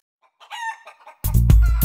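Chickens cluck softly in a short, uneven run, then a rooster bursts into a loud, close crow that carries to the end.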